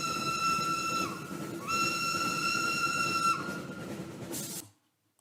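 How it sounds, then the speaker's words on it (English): A steam locomotive whistle blows two long, loud blasts over a continuous hiss and rumble, the second blast trailing off before the sound cuts to silence. "It's exactly the same whistle."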